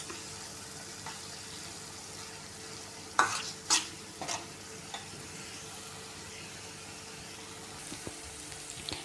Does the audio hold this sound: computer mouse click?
no